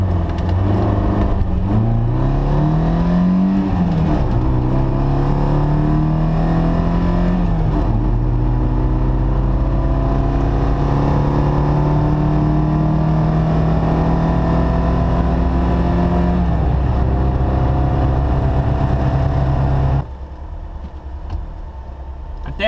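A car with 3.9 rear gears accelerates hard on a timed test run, its engine loud and close as it climbs through several gears with clear rising pitch sweeps and shift drops, then cuts off abruptly near the end, leaving quieter rumble.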